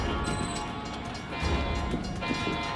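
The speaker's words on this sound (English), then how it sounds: "Well, somebody's about to get hit by a train." A train approaches a crossing in Florida, a steady loud rumble of rail cars with a brief high horn-like tone at the start, continuous with no voices.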